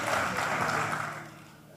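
Audience applause rings out at the launch of the Rand Water Zuikerbosch 5A water purification plant, a steady wash of clapping that fades slowly toward the end.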